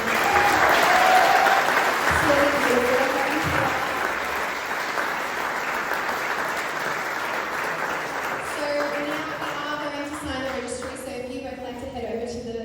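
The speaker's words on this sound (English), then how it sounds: "let's just give them a round of applause to start." Wedding guests in a chapel at Peterson House, Pokolbin, break into sustained applause, loud at first and slowly tapering, with a person briefly speaking over the clapping near the end.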